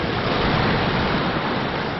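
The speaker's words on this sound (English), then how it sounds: "If we can, we'll have to time the waves right though." Waves break and wash steadily along a Lake Superior shore, a loud, continuous broadband surf roar that fills the whole stretch with no pause and no voices.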